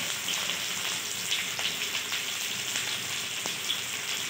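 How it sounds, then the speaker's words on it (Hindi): Chopped onions sizzle in a hot frying pan while a vegetable dish cooks, a steady close-up hiss with soft crackles and no one speaking. "अब हम डालेंगे प्याज। इस तरह से हम प्याज डालेंगे।"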